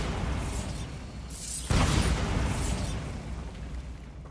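A Bombarda blasting spell in Hogwarts Legacy detonates with one sudden, loud, close explosion partway through, preceded by a low rumble and followed by a fading roar.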